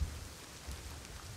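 Rain pours steadily in the survival game Rust, a constant soft hiss of drops on surfaces with a faint low rumble beneath, continuous and even for the whole stretch with no voices.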